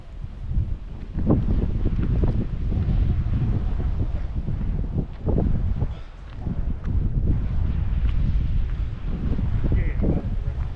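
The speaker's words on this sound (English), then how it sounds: "It's windy as we walk back, y'all. Getting breezy." Steady wind buffets the microphone in a low, continuous rumble while a person talks over it outdoors in Skagway.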